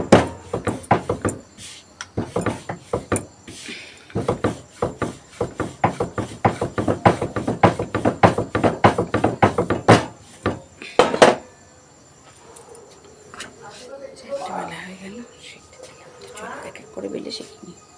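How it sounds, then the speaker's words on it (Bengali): Rotis rolled out and roasted one by one on a home kitchen stove, heard as a long run of quick, close wooden knocks and taps from a rolling pin at a steady pace, then a stop followed by quieter kitchen clatter and faint rustling. "আমি এক এক করে বেলে সেঁকে নিই রুটিগুলো।"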